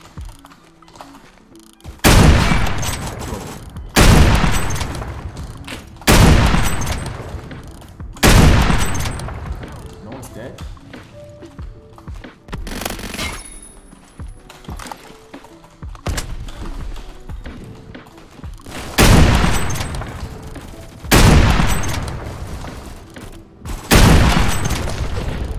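Sniper rifle gunfire in the video game Phantom Forces, a Dragunov SVU: about eight loud, sharp booming shots spaced a few seconds apart, each with a fading tail, over quieter game ambience.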